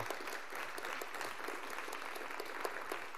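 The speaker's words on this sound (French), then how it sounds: "Je pense qu'on peut applaudir encore une fois Nicole Pradelli." Applause for Nicole Pradelli rises from the room at a municipal council installation meeting, a steady, even rain of many clapping hands, moderately distant and sustained without pause.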